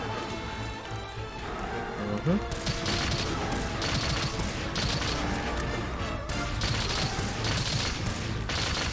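Light bowgun fire in a video game, a steady, dense run of rapid shots throughout, with busy game noise layered beneath.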